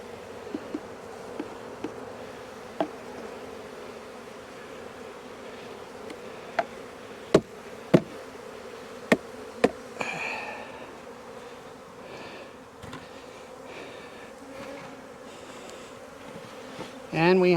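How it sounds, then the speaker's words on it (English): Honeybees buzzing around an opened hive while they are brushed back in during a rolling Demaree setup, a steady soft drone with several sharp knocks and bumps, ending in a louder rustle close by. "And we have a lid full of bees."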